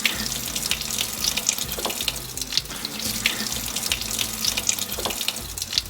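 A fresh pineapple is washed under a running kitchen tap, the water streaming steadily into the sink with splashy, irregular spatter throughout, close and fairly loud, and no voices.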